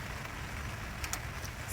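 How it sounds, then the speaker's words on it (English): Rain falls outdoors as a soft, steady patter with a low rumble underneath and a few sharper drips near the end. "And then it started to rain."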